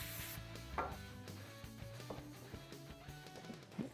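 A rag wipes over the wheel hub of a Polaris UTV with contact cleaner, making soft rubbing, scuffing strokes close up, with a few light knocks and no voices.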